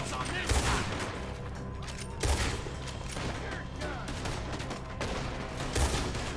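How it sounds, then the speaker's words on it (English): Rapid gunfire bursts and single shots ring out in a Red Dead Redemption 2 shootout, dense overlapping reports with heavier booms at intervals, under a continuous mix of game effects and music. "Looks like we're shooting our way out of here."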